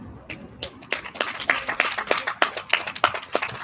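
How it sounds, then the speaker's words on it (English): Audience at a Guru Purnima celebration claps for people invited on stage, a short run of fairly sparse, distinct hand claps. "Applause, please."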